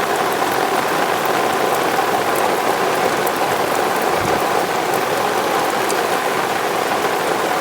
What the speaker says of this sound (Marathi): पाऊस पण जोरात पडायला लागलाय